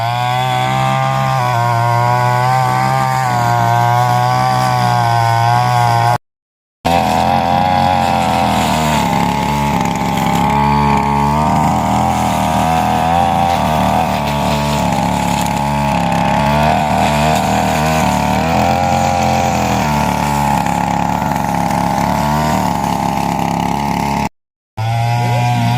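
A tractor engine working a rice paddy field during land preparation, a loud steady motorized drone with a low rumbling harmonic hum running continuously, briefly cut twice.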